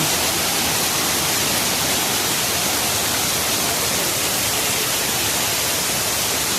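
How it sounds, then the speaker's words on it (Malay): Swollen floodwater of a river in North Aceh rushes in a steady, loud, unbroken roar with no voices over it. "Air sungai semakin membesar kayaknya, kiriman dari atas"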